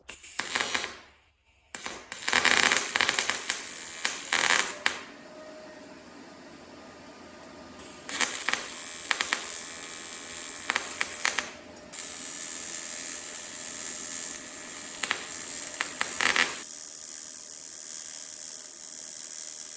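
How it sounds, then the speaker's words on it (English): A pulse-capable welder runs beads on an aluminum plate in three crackling, buzzing bursts of several seconds each, separated by short quiet gaps, close and loud with no voices. "I'm gonna test out this welder with this aluminum plate and see how it goes."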